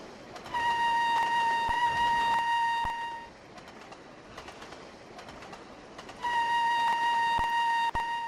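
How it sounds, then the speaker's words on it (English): Steam locomotive whistle in the Trainz video game on the Settle and Carlisle route, two long steady blasts separated by a gap of rumbling running noise, fairly loud and close. "they do need to improve that whistle for this train"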